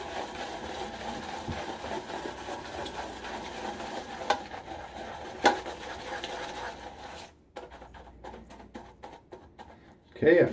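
A boar shaving brush works shaving soap into lather, making a soft, continuous scratchy swirling and rubbing sound that ends in a few sharper taps, with a voice talking alongside.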